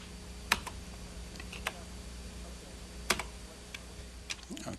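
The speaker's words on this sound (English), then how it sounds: "with this little keyboard, I've stored some messages ahead of time by typing them in" Keys clack sparsely on a small keyboard attached to an early speech synthesizer computer, a handful of isolated taps separated by pauses over a low steady hum.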